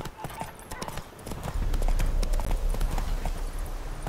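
Horse hooves clip-clop in a quick, close rhythm, the steps running together as the pace picks up, with a rumbling low-end and a voice urging the animal on.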